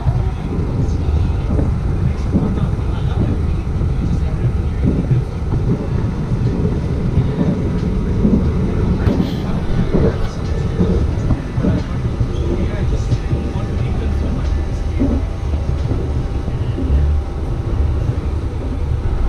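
An express train bound non-stop for KL Central rumbles steadily along the rails, a continuous loud low roar with wind buffeting across the whole stretch.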